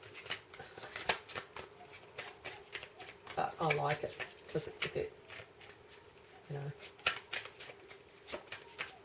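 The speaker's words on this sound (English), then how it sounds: "I'm sure you all know by now what my shuffling is like" Tarot cards shuffled by hand, with crisp repeated riffles and soft snaps in irregular bursts under someone speaking quietly.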